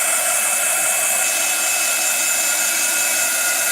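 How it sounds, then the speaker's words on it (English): A heat tool runs steadily, blowing hot air to dry a rusty-look mixed media texture; a constant close, loud whirring hiss with no pauses. "Where's me heat tool?"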